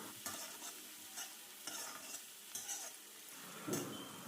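Green chillies, five large ones slit lengthwise, are stirred in a pan with a utensil, soft scraping strokes at intervals over a faint sizzle, close and quiet with no talking.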